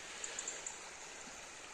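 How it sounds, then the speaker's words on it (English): A river flowing along the Wicklow Way, a faint, soft, steady babble of running water with a few tiny splashes and no voices, fairly distant. "the river is just gorgeous"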